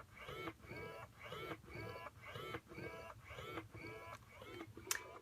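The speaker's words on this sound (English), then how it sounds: "The Ardo Calypso has actually won, they have done studies showing how quiet this is compared to the other breast pumps." Ardo Calypso breast pump running at its highest suction and cycle level, a quiet, steady rhythmic cycling of soft whirring pulses repeating roughly twice a second.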